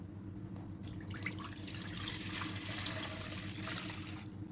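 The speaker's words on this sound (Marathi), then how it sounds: "एक बाउल घेतलंय, त्याच्यात आपल्याला पाणी घालायचंय." Water pours steadily into a bowl in a home kitchen, a quiet continuous splashing stream lasting several seconds, with no talking.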